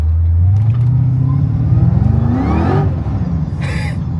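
Cadillac engine revs loudly close by, a deep rumbling drone rising steadily in pitch as it accelerates for a few seconds, with a brief higher whine near the end and no talking.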